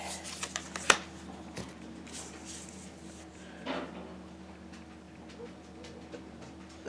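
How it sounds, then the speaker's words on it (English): A tarot card drawn from the deck, with a few quick rustles and a sharp snap of card stock near the start, then faint shuffling and a soft voice in the background. "Let me draw one of these cards."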